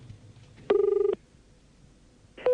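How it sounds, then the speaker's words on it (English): Tones of a telephone being dialled sound close and clear: one steady beep of about half a second, then quiet line hiss, then another tone just starting at the end. "Here's a bit of dialing for the aficionados."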